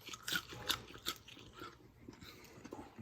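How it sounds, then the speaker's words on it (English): Crisp oven-baked bacon, cooked on a sheet tray, crunches in a few sharp close-up bites followed by quieter chewing, with no talking. "It's got a good crunch"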